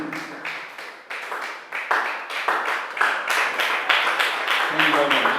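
Sustained applause from a seated audience at an award ceremony as a recipient is invited onto the stage, many hands clapping steadily and fairly close, building slightly in density toward the end.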